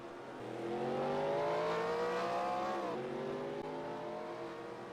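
Stock race cars at Kentucky in a non-points race roar down pit road in a loud, close pack, engine pitch climbing steadily, then dipping sharply as they pass and easing back up.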